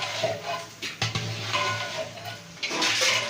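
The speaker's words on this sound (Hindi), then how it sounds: "5 किलो चिकन हमने डाल दिया देग में।" Five kilograms of raw chicken go into a large cooking pot (deg) for wedding-style korma, with clattering metal pot knocks, shuffling and a soft sizzle, plus a few sharper clanks.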